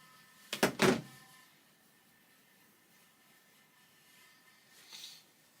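A door shuts with a quick double thunk and rattle near the start, fairly close, followed by near silence and a faint soft hiss later on.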